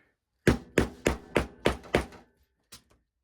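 A hammer taps on marks set into a tote bag during bag making: six firm, evenly spaced knocks, then a pause and one lighter final tap, close and clear with no talk.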